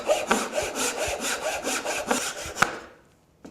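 A saw cuts cherry wood to clear joint waste, about a dozen close, rhythmic rasping strokes that stop abruptly, followed by near silence and a final faint knock.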